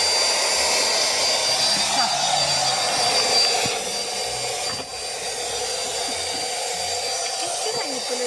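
A Xiaomi Shunzao Z1 handheld vacuum cleaner runs continuously for the whole stretch with a loud, steady, close-up whirring roar, cleaning a carpet, with faint voices underneath.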